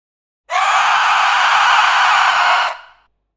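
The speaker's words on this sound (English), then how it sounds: "We have the scream, the guttural part, and the grating part." Layered monster vocal scream built for a creature design, blending a scream with guttural and grating layers into one dense, harsh, sustained roar lasting about two seconds, loud and alone, then cutting off sharply with a short tail.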